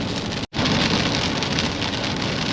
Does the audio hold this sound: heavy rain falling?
yes